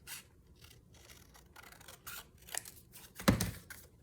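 Scissors cutting out a paper tag for a Christmas folio craft, with repeated soft snips and paper rustling, close, ending in one louder crisp cut.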